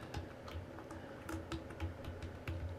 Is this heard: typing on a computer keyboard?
yes